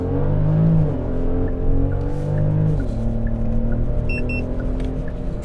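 Genesis GV70 3.5T SUV, 2022 model with a twin-turbo V6, accelerating hard from a launch in sport mode, a loud sustained engine roar rising through the revs with brief drops at gear shifts, heard from inside the cabin.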